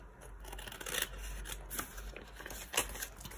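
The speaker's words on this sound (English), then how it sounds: "let me go around with my scissors, cut off these edges that we don't need" Scissors trim the edges off a paper envelope in a papercraft session, making a run of close, crisp snips and rustly paper crunches at an even working pace.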